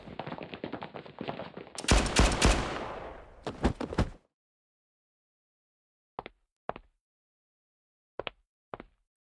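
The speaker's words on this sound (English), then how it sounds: "Was that a gunshot?" Rapid machine-gun fire rattles in dense, loud bursts for about four seconds, then stops abruptly, followed by a few isolated, sharp single shots spaced apart in silence.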